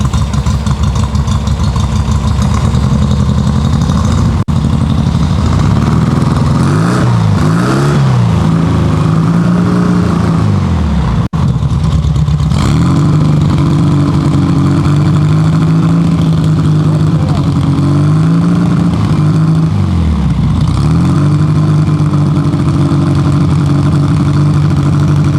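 A 1970 VW 1915cc engine fitted with dual 40 carburetors runs loud and close, holding a steady rough drone with several rev swells and dips at quarter throttle, and breakup in the tone.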